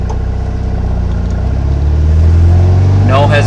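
A car with dual Kadron carburetors pulls away from a stop, its engine note rising smoothly and growing louder without hesitation, close and prominent.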